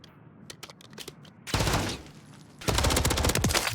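Rapid automatic gunfire from Modern Warfare 3 comes in two loud, dense bursts, preceded by a few scattered single shots, close and dominant in the game mix.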